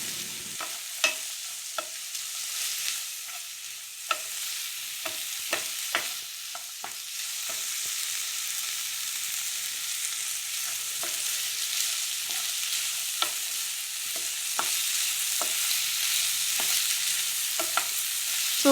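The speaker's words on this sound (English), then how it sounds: "So now I saute these vegetables really well." Onion and vegetables sautéing in a pan for white sauce pasta, a continuous hiss of frying broken by regular taps and scrapes of a stirring spoon.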